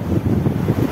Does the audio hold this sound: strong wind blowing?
yes